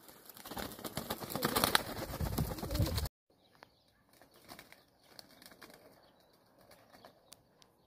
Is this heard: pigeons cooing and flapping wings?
yes